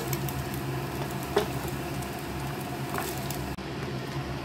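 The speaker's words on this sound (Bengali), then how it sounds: "তেলের মধ্যে চিংড়ি মাছগুলোকে দিয়ে দিলাম" Prawns fry in hot oil with a steady, quiet sizzle and faint crackle, broken by a couple of brief clinks.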